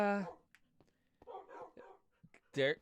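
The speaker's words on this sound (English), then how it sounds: "there's dogs everywhere, lots and lots and lots of dogs" Dogs bark and yip in short scattered bursts in a Minecraft-style game, a sharp bark opening and another closing the stretch, with faint smaller yelps between; a voice talks over part of it.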